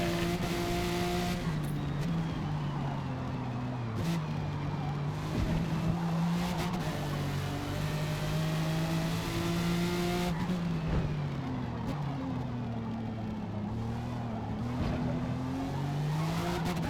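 A Jaguar XJR-15 race car on sport tires, its engine droning steadily with rising and falling pitch as it shifts, tires squealing and skidding through corners, loud and close.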